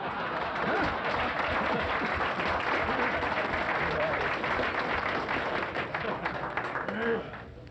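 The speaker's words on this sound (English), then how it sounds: "So, gentlemen, let's give a clap for Marion Parsonet." At a Friars Club roast for Humphrey Bogart, an audience of gentlemen breaks into dense, continuous applause that fills the room, tapering slightly at the end, with scattered voices beneath it.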